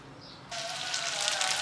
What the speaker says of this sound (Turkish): Şimdi bunu çevire çevire ocakta kızartacağım.